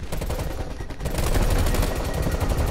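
The player's gun fires in Call of Duty: Black Ops Cold War: loud, rapid automatic bursts that start after a brief lighter stretch and then hammer on densely and close until the end.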